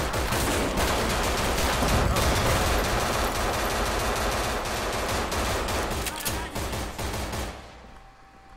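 Dense, sustained automatic gunfire from the zombie video game No More Room In Hell, loud and near, with rapid overlapping shots for most of the stretch before cutting off abruptly at the end.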